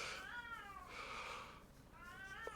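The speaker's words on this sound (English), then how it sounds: "She's meowing for food and attention." A very old cat meowing repeatedly for food, several drawn-out, wavering cries in quick succession, close and fairly quiet, with no talk.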